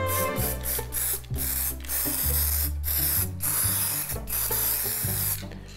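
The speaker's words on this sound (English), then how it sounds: "using the starter grass layering spray, start layering up now using your 4 mil grasses" A continuous hissing spray of model grass layering spray runs loud and close, broken by short pauses, with a low rhythmic humming tone underneath.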